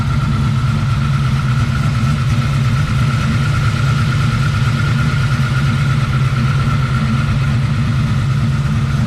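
A 650 hp 1971 Chevrolet Camaro split bumper with a 421 small block and aluminum heads idles loudly and close, a steady deep rumble with a lumpy pulse that never changes pace.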